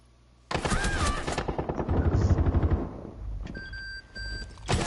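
Gunfire during a competitive video game match: a loud, fast burst of automatic shots, then a sustained rattling stream that fades into scattered quieter sounds.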